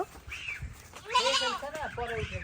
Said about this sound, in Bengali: আবার ছাগলও চলে আসছে